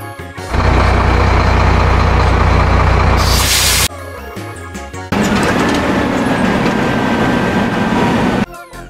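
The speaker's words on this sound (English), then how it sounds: "Dump truck." A loud, heavy truck engine rumbles steadily, joined by a burst of hissing air, then drops out briefly before idling again with a faint whine.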